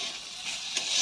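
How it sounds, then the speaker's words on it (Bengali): A spoon stirs pointed gourd and tomato curry in a frying pan, a steady close sizzle with soft scraping strokes throughout. "ঢাকা খুলে একটু নাড়ব।"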